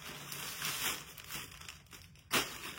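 Plastic Shein clothing packages being opened and unwrapped, with close crinkling and rustling of thin plastic throughout and a sharper crackle near the end.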